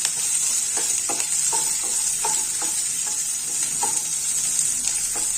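Adamant creeper (pirandai), a small handful, sautéing in a pan: a steady close sizzle with repeated light scrapes and stirs of a spatula against the pan, no talking.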